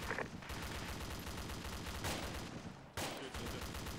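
Continuous battlefield gunfire in the ArmA II military video game, dense overlapping automatic bursts roaring loudly throughout with a couple of heavier blasts standing out.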